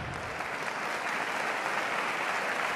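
A studio audience at a televised comedy gala breaks into steady, dense applause, close and even throughout, with no voice standing out above the clapping.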